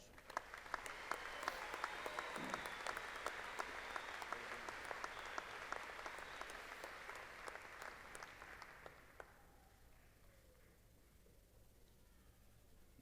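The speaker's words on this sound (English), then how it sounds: "Please honor these graduates with a round of applause." Graduation crowd at Angelo State University's 2015 fall commencement applauding graduates, a dense, steady round of clapping lasting about nine seconds before fading into a quiet hall.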